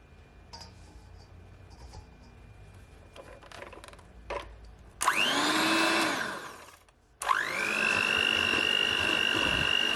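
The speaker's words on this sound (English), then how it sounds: "take my hand mixer and just mix it all in." Electric hand mixer beating sugar into Jamaican sorrel fruit cake batter, starting after quiet kitchen clatter with a loud steady whir for about two seconds, a brief pause, then running again just as loudly to the end.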